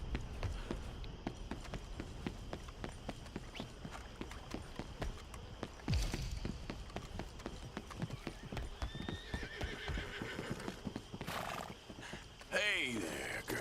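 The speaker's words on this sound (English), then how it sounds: "Let me take my horse there." Horse hooves clip-clop steadily in Red Dead Redemption 2 gameplay, close and rhythmic, with a neigh or whinny breaking in and a person talking over the trotting.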